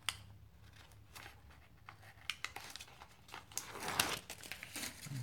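Double-sided paper being handled and creased while making an organiser planner: close crinkling and rustling with sharp crackles, growing louder toward the end, no speech.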